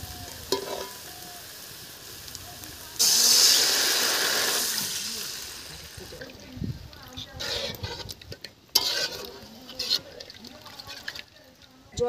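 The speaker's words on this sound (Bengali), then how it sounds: "এখন জল ঢেলে দেব" Water poured into a pot of village-style river Amudi fish curry over fried ground spices sets off a sudden loud hissing sizzle that fades into bubbling, with scattered clanks of stirring afterward.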